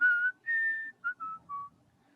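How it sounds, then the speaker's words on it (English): A person whistles a short tune alone, several clear notes, some held and some brief, close by and fairly loud. "Can you whistle a little?"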